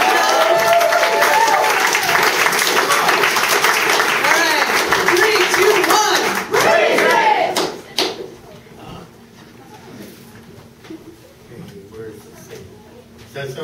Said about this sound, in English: So please give a huge round of applause to Bob MacKenzie.